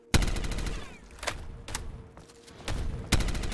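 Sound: gunfire in video game Call of Duty Black Ops 3 Zombies

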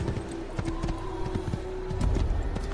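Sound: horse galloping hooves in the video game Assassin's Creed

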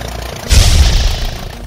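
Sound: tractor with spreader engine running

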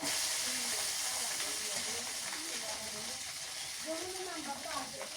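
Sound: onions frying in pan

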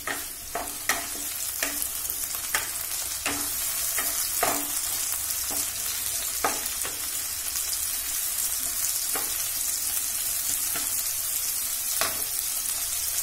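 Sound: onions frying in a pan

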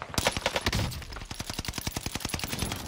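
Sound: gunfire from shots in the video game Warzone

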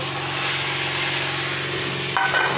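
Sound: sautéing cauliflower, potato and peas in fried spices

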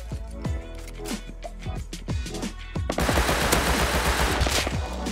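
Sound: gunfire in the video game Rust

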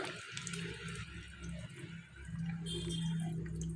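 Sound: pouring milk into caramelised sugar in a pan

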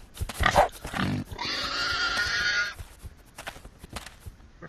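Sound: pig squealing in video game Ark

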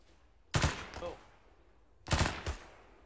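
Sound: gunfire shots in the video game ArmA 3

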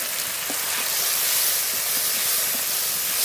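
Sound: spices sizzling in pan as water is added

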